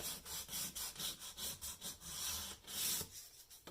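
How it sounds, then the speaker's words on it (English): Sandpaper rubs across a cracked wooden cabinet of an AirKing 4000A radio in steady back-and-forth strokes, close and rhythmic, with a short pause near the end. "sand this just a little bit."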